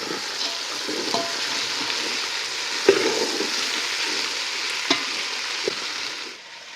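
Peanuts sauté in a pan for ghevda bhaat (rajma pulao), giving a steady close frying sizzle with occasional stirring clinks and scrapes.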